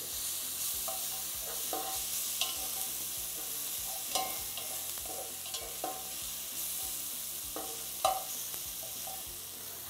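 Onions frying in oil in a pan, a steady close sizzle with occasional stirring scrapes and small pops, no voices.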